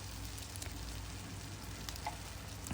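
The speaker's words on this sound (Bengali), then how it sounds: "দিয়ে আদা বাটাকে ভালো করে কষাতে হবে" Ginger paste fries in a pan with a soft, steady sizzle and occasional faint crackles and stirring scrapes. It sits quiet and close, with no voices.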